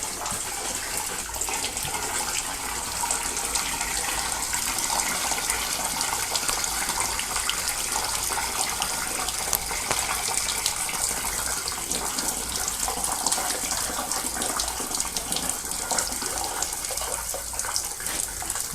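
A slightly leaky hose runs water steadily to wash out a steam boiler, giving a loud, unbroken rushing and splashing that lasts the whole stretch with no talking.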